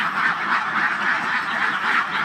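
A flock of about 250 ducks on a small enclosed duck farm quacks continuously at close range, a dense, overlapping chorus of nasal calls with no pauses.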